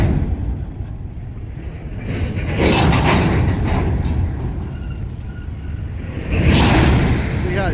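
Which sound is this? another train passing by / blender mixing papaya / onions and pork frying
another train passing by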